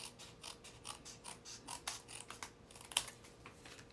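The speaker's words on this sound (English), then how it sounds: "Take our little snips and clean this edge up a tiny bit more" Small snips trimming the edge of paper in a crafting session, with a quick run of soft, rhythmic metallic clicks and snipping cuts close by, one sharper click standing out.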